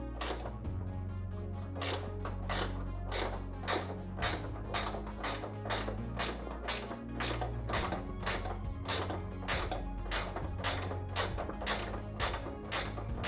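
A ratchet winds a long bolt out of an RA23 Toyota Celica undergoing a restomod, clicking in a quick, steady rhythm of regular strokes, close up and alone.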